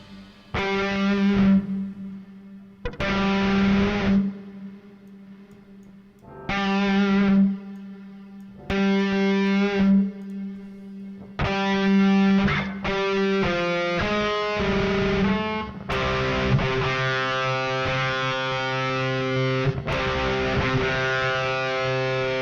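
Distorted electric guitar from a Kemper amp running a Mesa Mark V profile, fed through reverb and delay, playing chopped nu metal chords with gaps between bursts, then sustained notes whose echoing tails ring out, loud and alone.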